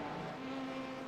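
In iRacing at Sebring, a race car engine runs at high revs with another car alongside, a steady tonal drone that stays even and unbroken for a brief moment, with no voices.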